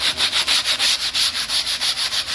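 Sanding the edge of a white gloss kitchen worktop, a steady rhythmic rasp of about a dozen quick back-and-forth strokes, close and loud with no talking.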